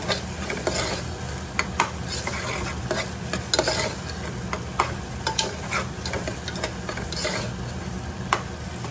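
Cluster beans frying with onions in a pan as a spatula stirs them, giving a steady sizzle broken by frequent scraping clicks and knocks against the pan, close and fairly loud, with no talking.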